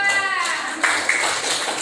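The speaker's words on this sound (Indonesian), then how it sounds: "Tepuk tangan untuk kelompok 2" A classroom full of students claps for a group, a dense, steady patter of many hands close by that runs throughout, with children's voices mixed in underneath.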